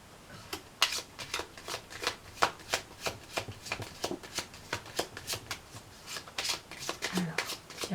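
Gilden Rêverie Lenormand oracle cards being shuffled close up, a steady run of crisp riffling flicks and soft slaps repeating every fraction of a second throughout.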